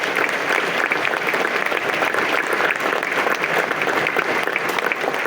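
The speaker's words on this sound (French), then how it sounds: "Et j'aimerais qu'on applaudisse les maires." An audience at a municipal New Year's wishes ceremony in Aulnay applauds the mayors, steady dense clapping from a crowded hall continuing evenly throughout with no speech over it.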